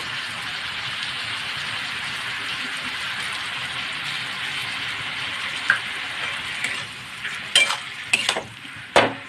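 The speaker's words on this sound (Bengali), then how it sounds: "মশলার সঙ্গে ভালো করে মিশিয়ে নেব" Bottle gourd with mung dal, spices and salt sizzles steadily in a hot pan, with a few sharp spatula scrapes and knocks near the end; no talking.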